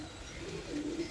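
Pigeons kept for a racing competition in Pakistan coo softly, low throaty calls rising toward the end over a faint background hum, fairly quiet and close.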